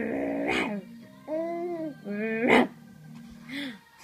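An adult voice imitates a dog, giving several playful barks and whimpering yips one after another with pauses between, loud and close, while playing with a seven-month-old baby.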